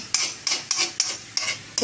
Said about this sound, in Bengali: তার মধ্যে মশলাটা দিয়ে একটু মানে কষিয়ে নিচ্ছে